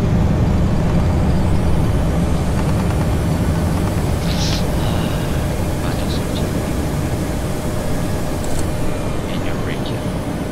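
A Boeing 737 in the PMDG add-on for Prepared 3D roars loudly and steadily as the thrust reversers deploy during landing rollout, a broad, continuous engine rush with faint clicks and tones on top.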